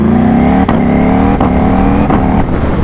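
A Ducati Panigale V4 motorcycle engine roars loudly and close, its revs climbing in repeated surges with brief breaks between gear changes, like a hard acceleration on the move.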